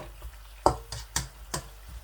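Chopped onions frying in a pan over medium heat, a soft steady sizzle punctuated by several crisp clicks and taps of a spoon stirring against the pan, close and without any talking.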